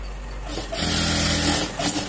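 An electric sewing machine stitches a shoulder seam on a small blouse for a one-year-old, cut from saree fabric. It whirs in a fast, steady run up close after a brief start, then stops.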